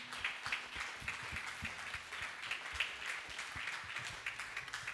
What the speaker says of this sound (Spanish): Podemos darle un fuerte aplauso a Dios